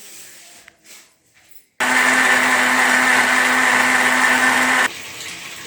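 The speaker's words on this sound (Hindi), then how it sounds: "और साथ ही हम एलोवेरा का पेस्ट डाल देंगे, क्योंकि ये अच्छे से ग्राइंड हो जाएगी दोनों चीज़ें।" An electric blender grinds rice with aloe vera paste in a steady, loud whir lasting about three seconds, preceded by quiet handling clicks and followed by a lower hum as it winds down.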